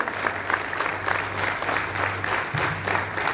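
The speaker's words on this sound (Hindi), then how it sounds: "दोस्तों तालियों की गड़गड़ाहट रुकनी नहीं चाहिए।" Audience applause at a professional meet during a shawl presentation ceremony, steady dense clapping throughout with a low hum underneath.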